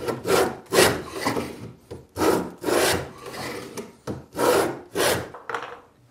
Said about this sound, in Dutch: Met een andere beitel wordt nu de groef gemaakt.